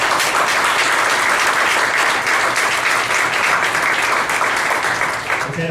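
Audience applause at a Tulsa 1 Million Cups startup pitch event, a dense, steady wash of many hands clapping together, loud and sustained throughout before tapering slightly at the end.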